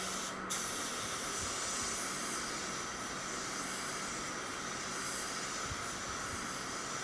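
A paint spray gun, its fluid adjustment set three turns out, lays down a coat with a steady, continuous airy hiss that holds evenly from start to finish, close and loud with no talking.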